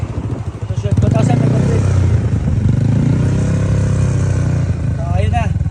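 Motorcycle with an aftermarket muffler fitted with a mid silencer, revving steadily around 2,500 rpm with a loud, continuous engine drone and someone talking over it near the end.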